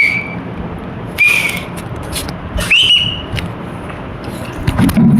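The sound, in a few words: whistling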